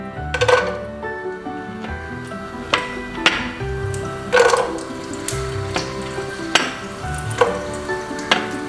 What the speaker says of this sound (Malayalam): ഉണക്കമുന്തിരി വറുത്ത് മാറ്റി വയ്ക്കാം.